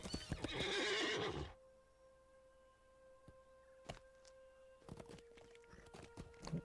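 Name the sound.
horse neighing and hooves in video game LOTRO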